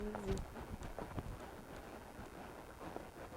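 Hooves of a horse working on arena ground, with soft, irregular thuds and clip-clops at moderate distance and a faint tonal noise near the start.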